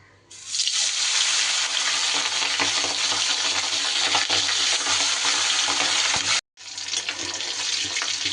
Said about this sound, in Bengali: এবার আমি মাছগুলো এক এক করে দিয়ে ভেজে নেব